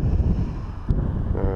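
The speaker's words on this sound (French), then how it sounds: "il y a une véritable tempête de vent" A strong gale roars and buffets the microphone in continuous low rumbling gusts beside a second-category stream during a pike fishing outing.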